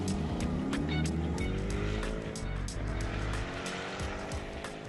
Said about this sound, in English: A high-tech, free-breathing V8 sounds great and goes even better